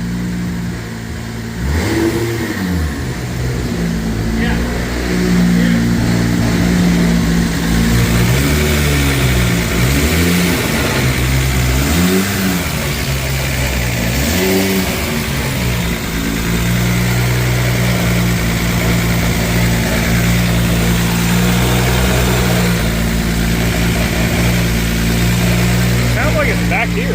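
A 1000whp 2JZ engine in a BMW E30 with a DCT gearbox revs repeatedly on a dyno in rising and falling sweeps over a constant idle drone, with people talking over it.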